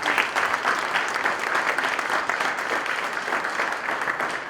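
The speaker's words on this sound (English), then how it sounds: "Let's give them a big round of applause" An audience at a Rochester community event gives a warm round of applause, a dense, sustained patter of many hands clapping that swells slightly and continues through the moment.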